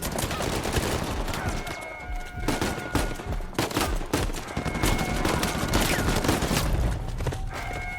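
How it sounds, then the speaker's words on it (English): Turret fire and enemy gunfire in Uncharted 4, a steady stream of sharp, close shots and bursts that pile over one another with no pause throughout. "we have to move forward towards the tower while getting shot by a turret and extra enemies on the ground"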